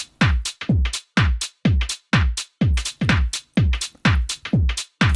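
A drum loop from a club remix repeats alone at a steady tempo, each hit a punchy kick with a bright sweeping top, roughly two per second, loud and up close.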